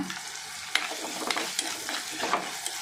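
Onion and green mango sauté in a pan for an anchovy curry: a soft, close sizzle with repeated light scraping strokes of a spoon, and no talk.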